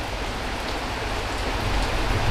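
Steady rain falls in a dense, even hiss, fairly close and continuous, with no voices.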